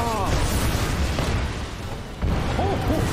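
Fuse's ultimate from Apex Legends going off indoors, a loud, dense rumbling blast that fills the whole moment, with voices briefly heard over the roar.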